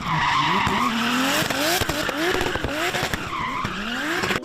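Drift cars skid through a run, tires squealing in long rising and falling wails over revving engines, loud and continuous with sharp bursts throughout.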